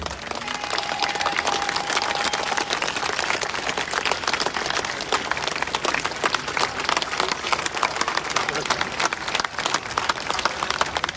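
A large crowd at an outdoor political rally on Letná bursts into sustained, dense applause for the police, clapping steadily and loudly throughout with no break.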